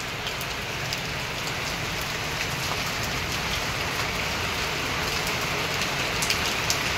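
Heavy rain falls steadily on a wet morning, a dense even patter that holds at the same level throughout, with no voices and no other sound standing out.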